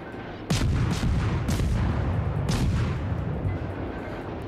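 Heavy gunfire and booming cannon blasts from a game, a dense continuous barrage with sharp loud bursts standing out every second or so.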